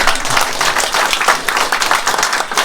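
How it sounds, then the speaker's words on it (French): An audience at a panel discussion breaks into sustained applause, dense clapping from a room of people filling the whole moment without a pause. "Est-ce que c'est pas le moment de les applaudir"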